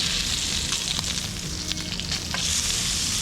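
Lobster tails frying in butter in a pan, a dense continuous sizzle with occasional sharper spits and crackles, close and loud, no talking.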